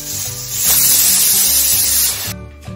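Pressure cooker cooking chana dal lets off a loud, close hissing whistle of steam that holds steady for about two seconds, then cuts off into quieter sputtering, with no talk.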